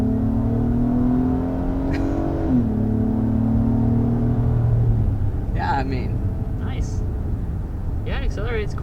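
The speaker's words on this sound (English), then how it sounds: "I like the sound of the exhaust as well" A 2022 Acura MDX Technology three-row luxury SUV in sport mode accelerates, its engine and exhaust note rising steadily in pitch as a loud, continuous drone from inside the cabin, with a few brief voice-like sounds near the end.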